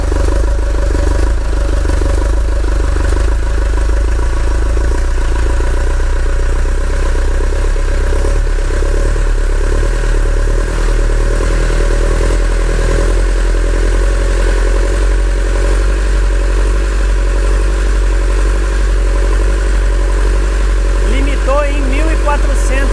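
A diesel engine runs at a steady idle with its electronic accelerator pedal disconnected, a continuous low mechanical drone while someone talks over it throughout.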